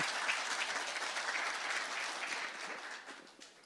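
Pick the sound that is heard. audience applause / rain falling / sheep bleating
audience applause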